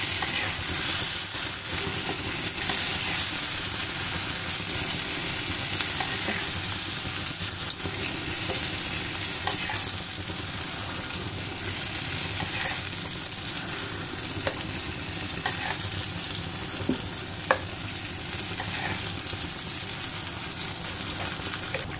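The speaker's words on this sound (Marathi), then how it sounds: "आपलं तेल हे चांगलंच तापलेलं आहे। पुन्हा एकदा आपण हे मिश्रण मिक्स करून घ्यायचंय आणि चमच्याने भजी टाकायचे।" Spoonfuls of mixed dal bhaji batter fry in well-heated oil, giving a steady, close sizzle and bubbling that runs throughout without speech.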